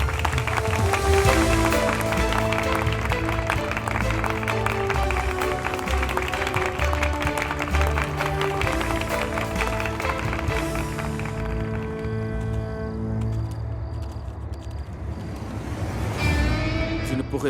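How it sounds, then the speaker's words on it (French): A celebration crowd applauds the new CEO and head of Raishand Industries with loud, sustained, dense clapping under swelling music. The applause thins and fades toward the end. "Tous nos plus chaleureux applaudissements au nouveau PDG et chef de Raishand Industries"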